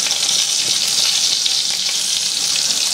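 Sausages sizzle on a grill with a steady, loud, dense crackle and hiss that holds evenly throughout, close up and alone with no talking.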